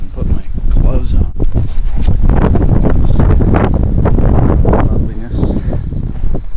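Strong winter storm wind buffets the microphone in a steady, loud roar with gusting swells across the whole stretch, and a person talks beneath it.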